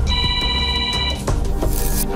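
A phone rings indoors in an apartment, a steady electronic tone repeating at moderate loudness for a second or so before cutting off, followed by faint rustling.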